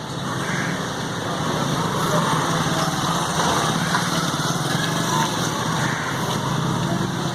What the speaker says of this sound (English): I just wanted to check and see if the bike starts